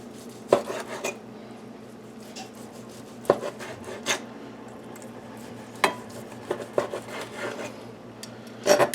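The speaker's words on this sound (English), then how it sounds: "you just start slicing." A knife slicing across the grain of grilled tri-tip on a board, giving soft rasping cuts punctuated by a few sharp knocks of the blade against the surface, close and fairly quiet, with no talking.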